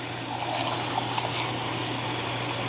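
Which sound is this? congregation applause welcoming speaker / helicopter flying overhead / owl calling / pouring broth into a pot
pouring broth into a pot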